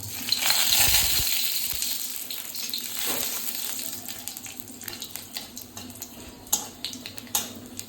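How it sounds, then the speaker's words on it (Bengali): Panch phoron, bay leaf and dried chilli spit and crackle as they hit hot oil in a pan, a loud burst of frying that settles into steady sizzling with scattered sharp pops, no voices. "তেল গরম হয়ে গেছে তো তার মধ্যে আমি দিয়ে দিচ্ছি ফোড়ন পাঁচফোড়ন আর তেজপাতা শুকনো লঙ্কা"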